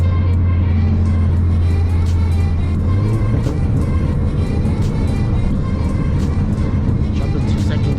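A car engine with traction control switched off roars loudly and steadily from up close. A low engine tone shifts pitch partway through as the car accelerates hard.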